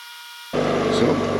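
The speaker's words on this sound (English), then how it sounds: "I'm taking it to the bench grinder and grind it down" A bench grinder grinds down a steel washer held in vice grips during a Dynapac LP650H speed control repair, a loud steady abrasive whine starting abruptly after a brief silence and continuing to the end.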